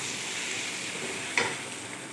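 Spices fry in a pan for vegetable khichuri. The sizzle is soft and steady, with one brief clink or scrape partway through and no voices.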